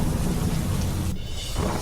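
Heavy monsoon rain pours down in Ahmedabad with a dense, loud hiss, and deep rolling thunder sits low underneath it. The downpour continues without a break through the short stretch, and no voices are heard.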